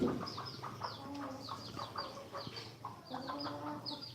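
Hens cluck in short, repeated bursts, with several birds calling over one another nearby and a few sharper squawks mixed in.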